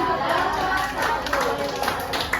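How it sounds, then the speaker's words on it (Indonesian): Dense clapping from a group of people, with chatter mixed into the steady applause. "Oke, kasih tepuk tangan."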